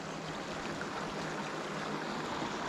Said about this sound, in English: that's where the little waterfall's dropping down at that big pool